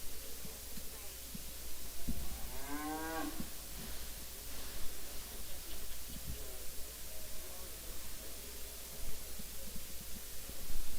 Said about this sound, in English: This is a Watson cattle from somewhere in Texas.